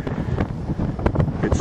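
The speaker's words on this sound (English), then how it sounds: "It's windy." Cold March wind buffets the microphone in steady rumbling gusts on a farm, with a few brief knocks and rustles.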